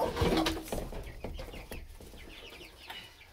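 Clucks and soft cheeping from five-week-old Exchequer Leghorn chicks come in short bursts, close by, with a louder cluster at the start fading to quieter calls.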